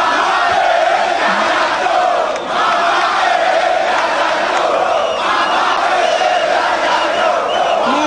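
Thousands of MRC party supporters gathered at a political rally for Maurice Kamto in the capital, their crowd roaring and cheering loudly and continuously with sustained chanting throughout.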